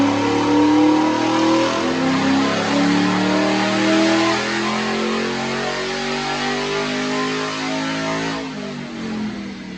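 A 2008 Mustang Shelby GT with a Steeda air induction system revs on a dyno, a loud, close engine climbing steadily in pitch through a sustained pull, then easing off near the end.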